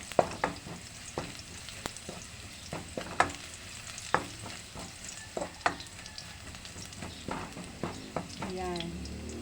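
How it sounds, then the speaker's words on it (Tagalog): Garlic sautéing in a pan, a soft sizzle punctuated by repeated light scrapes and taps of a utensil stirring, with a voice speaking quietly nearby. "Bawang. Tingin lang natin mamula-mula ng konti."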